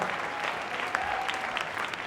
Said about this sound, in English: Give them a round of applause for all of their hard work.